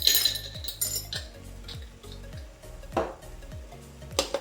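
Seasoned, generously peppered vegetables for a fish papillote are stirred in a bowl, giving repeated clinks and scrapes of a utensil against the dish in an uneven rhythm, close and moderately loud, with no talking.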